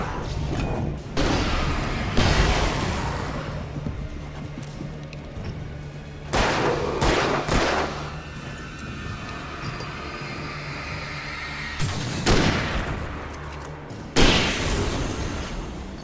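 A powerful gun fires in the video game Alan Wake Remastered, with several heavy booming shots at irregular intervals over a continuous low rumble of game sound.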